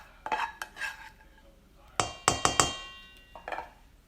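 Mashed potato, sautéed vegetables and ham being mixed in a bowl: a handful of sharp, close utensil clinks and scrapes against the bowl, spread unevenly across the clip with quiet gaps between.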